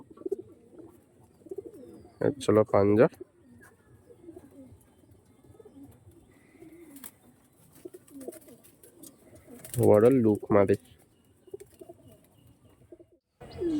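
Soft, low cooing of small pigeons at a pigeon sale murmurs steadily in the background, with two brief bursts of nearby speech over it.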